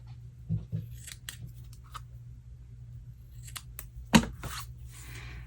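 Scissors snip the loose ends of a tied square knot on a decorative notebook album, a few quiet close cuts spread out, with one louder crisp snip near the end.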